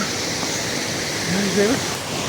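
Mountain river rushing along a trekking trail between Bamboo and Deurali on the Annapurna Base Camp route, a steady broadband roar of flowing water, close and continuous, with a faint voice briefly audible under it.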